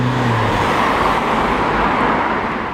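White Smart car driving past on a bridge, a steady broadband road roar that swells and fades gradually amid traffic noise, with a low engine hum near the start.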